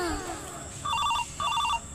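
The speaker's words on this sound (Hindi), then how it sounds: "फोन आवत बा।" Two bursts of a warbling electronic telephone ring, fairly close, over a low background hum.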